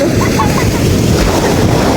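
Choppy sea waves wash close by during stormy weather while children swim, a loud, continuous rushing wash mixed with wind buffeting the microphone, with no clear individual breaks.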